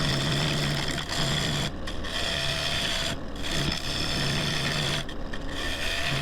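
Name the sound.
freshly sharpened gouge cutting splitsuarina wood bowl on lathe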